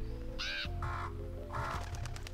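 Harsh bird cries in the video game FNaF World, three loud caws in a row over steady low game music, close and shrill.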